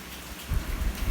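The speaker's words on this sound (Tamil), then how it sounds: "வெளியே மழை பெய்யுது. உங்களுக்கு சத்தம் கேட்கும்னு நினைக்கிறேன்." Rain falling outside a kitchen, a steady low rumbling wash that grows louder and fuller halfway through, with no voices over it.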